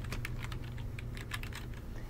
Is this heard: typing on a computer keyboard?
yes